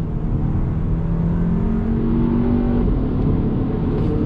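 A 2021 Hyundai Elantra N Line sedan's engine pulls hard under throttle, a steady loud drone rising in pitch with the dual-clutch transmission shifting, heard from the cabin with no talking.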